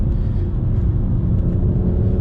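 BMW M240i on the move, a steady low engine drone and road rumble holding at a constant level throughout with no voices over it.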